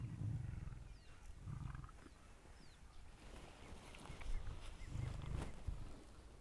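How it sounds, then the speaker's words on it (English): A lion's low rumbling, coming in deep pulsing bursts, purr-like and fairly close, with faint outdoor background noise and no speech. "It's almost the lion equivalent of a purr."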